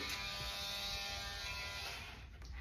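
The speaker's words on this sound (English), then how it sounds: "the way I grind nails" An electric nail grinder buzzes steadily against a Mini Australian Shepherd's nails, a close, continuous high whine that holds its level and dips only slightly near the end.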